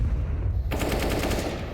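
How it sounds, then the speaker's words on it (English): Rapid automatic rifle fire in a Counter-Strike match on the Vertigo map, a sustained burst of gunshots starting abruptly after a quiet moment and continuing loud and dense to the end, no talk over it. "Honda comes in with this headshot"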